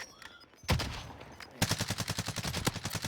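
Gunfire from an HDR sniper rifle in Call of Duty Warzone: a single sharp shot, then after a pause a rapid run of evenly spaced loud cracks, close and dry, with no talking.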